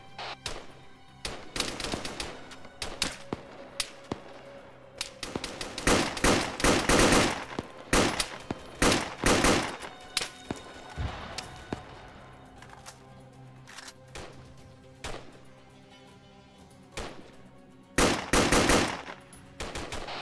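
Arma 3 gunfire crackles in repeated bursts and rapid machine-gun volleys, some close and loud and others thinner and farther off, with brief pauses between the exchanges.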